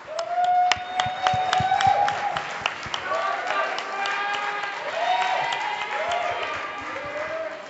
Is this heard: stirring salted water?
no